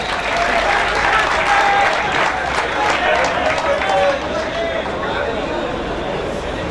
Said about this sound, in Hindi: आपकी भरपूर तालियों पे दोनों टीमें तशरीफ ला रही हैं